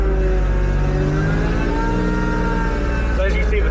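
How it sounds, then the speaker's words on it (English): A supercharged Acura NSX engine revs up close, its pitch climbing in a smooth harmonic sweep before easing back down. "We'll rev it up a couple more times, just let it bleed out."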